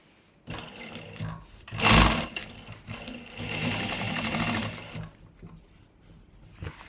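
A sewing machine stitches waste cloth, with a loud, close whirring run that surges at the start and then holds a steady rapid rhythm for a few seconds before stopping.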